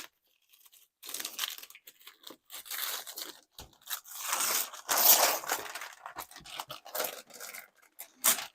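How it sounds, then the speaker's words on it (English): Plastic shrink wrap is torn and peeled off a board game box, a close, crinkly tearing and crumpling in several bursts with short pauses between. "what say we unwrap this game and see what it is"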